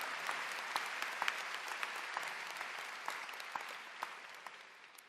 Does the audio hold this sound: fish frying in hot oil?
no